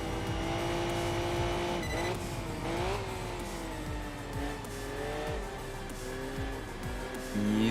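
A Mazda Miata races in the game Enthusia Professional Racing, its engine droning loudly and steadily with pitch shifts as it takes corners and changes gear, while tires squeal now and then.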